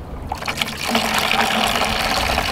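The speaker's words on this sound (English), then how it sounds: "Let's see if it pours out any faster without this cap." Fuel pours from an uncapped plastic gas can used in lawn care work, a steady close liquid splashing and trickling that builds after a brief start and keeps flowing.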